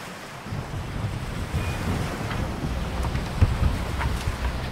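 Ocean waves and wind roar steadily around a racing sailboat out at sea, a broad continuous wash with occasional louder surges and no voices.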